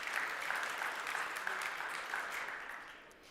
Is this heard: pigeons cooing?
no